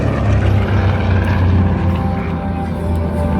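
A TBM Avenger propeller aircraft flies by at an air show, its loud piston engine a steady, throbbing roar that stays close and constant throughout, with no talk over it.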